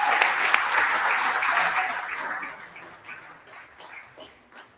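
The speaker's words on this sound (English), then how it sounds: "So round of applause for Lake, making it happen in Oregon." A conference audience applauds with dense, bright clapping that stays strong at first, then thins into scattered individual claps as it fades out.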